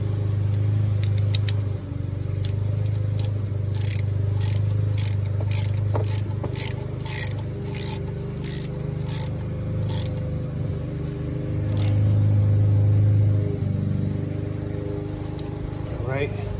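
A ratchet with a 10mm socket clicks in quick bursts while tightening a bolt on the power steering pump of a 2003 VW Passat B5.5 V6, close up over a steady mechanical hum.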